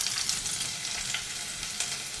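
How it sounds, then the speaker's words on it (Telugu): Finely cut green chilli pieces sizzle steadily in hot oil during a tempering for a veg poha salad, a continuous close frying crackle with light stirring and no voices. "ఇప్పుడు ఈ సన్నగా కట్ చేసుకున్న పచ్చిమిర్చి ముక్కలు వేసుకుందాం"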